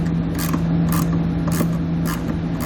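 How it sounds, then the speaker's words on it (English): A socket wrench on a T15 Torx bolt while fitting a hidden trailer hitch receiver to a 2019 Chevrolet, giving a steady, close run of ratcheting clicks in regular bursts over a constant low mechanical hum. "so we'll use that same socket"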